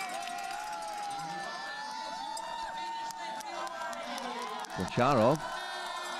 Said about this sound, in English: The Russians giving him a big cheer as he makes his way to the line